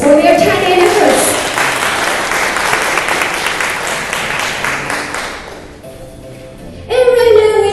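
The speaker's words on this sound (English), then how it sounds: "how about a round of applause for all our judges for their tiny efforts?" Audience applauding the judges at a startup demo day pitch event, a loud sustained burst of clapping filling the room for several seconds before fading, with a voice speaking briefly at the start and end.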